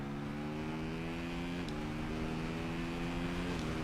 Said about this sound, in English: I like the different engine sounds as well.